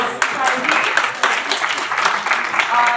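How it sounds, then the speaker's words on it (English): Applause fills a hall at an award ceremony during an international engineering students conference, a steady run of many hands clapping with a voice partly over it. "a round of applause."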